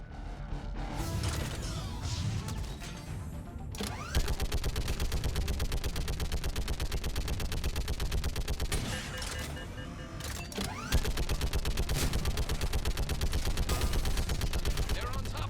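Sustained rapid turret gunfire in the Mass Effect 3 video game, a dense rattling burst that runs nearly the whole time with short breaks, loud and close, with game effects layered underneath.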